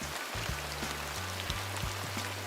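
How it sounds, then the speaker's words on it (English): Rain falls on leaves in a Calm meditation ad, a steady wash of close patter with a low hum running underneath and no voices. "they launched an ad that had nothing but the sound of rain hitting leaves"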